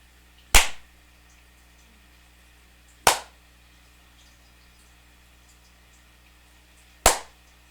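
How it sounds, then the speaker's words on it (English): Three sharp single hand claps ring out in a quiet room during a guided meditation, spaced a few seconds apart, each crisp and close with a short decaying tail and silence between. "notice what you notice from the sound of my hand clapping"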